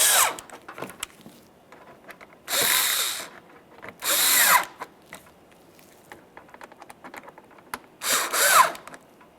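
A power drill snugs fender liner screws on a 2009-2014 Nissan Maxima, three short loud whirring bursts separated by quiet stretches of faint clicks and handling noises.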